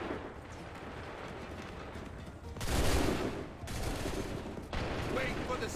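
A musket volley fires in Assassin's Creed III: after a quieter stretch, several loud bursts of massed gunfire crash out in quick succession, with shouted voices in the mix.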